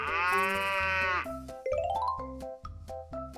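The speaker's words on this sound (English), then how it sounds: "Water buffalo, a strong farm animal used for plowing fields, producing milk and meat" A water buffalo, the strong farm animal used for plowing, gives a long, loud, close moo with a rich harmonic tone, followed by a few shorter, lower grunting calls and knocks.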